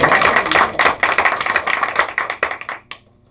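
A dense round of applause from a meeting audience fills the room with rapid overlapping claps that thin out and fade to silence after about three seconds.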